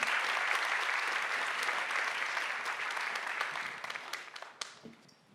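An audience at a science slam gives steady, dense applause that holds for several seconds and then thins and fades out, with a few last claps at the end.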